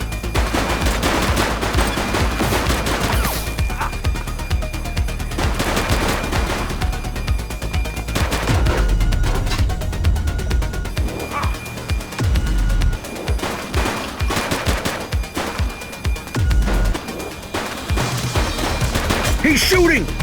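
Bursts of gunfire from an armed suspect in The Precinct police game, repeated shots and rapid volleys over a dense, busy backdrop, with voices talking at times.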